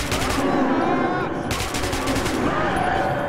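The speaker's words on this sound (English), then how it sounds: "I am shooting them!" Automatic gunfire from the video game Metro 2033 Redux, sustained loud bursts of shots that run continuously for a few seconds alongside dense game sound.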